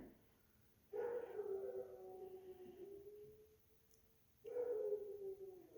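Dogs let out two long mournful howls, the first drawn out over several seconds and sliding downward, the second starting after a short pause, heard indoors at moderate distance.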